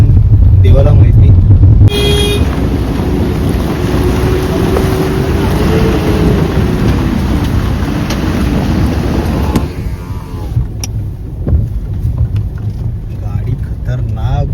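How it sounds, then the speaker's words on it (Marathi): A car lurches and sways along a badly damaged village road lined with parked vehicles during a Ganpati festival trip, its engine and road noise a loud, continuous rumble with bumps and people talking over it. "गाडी खतरनाक डुलते."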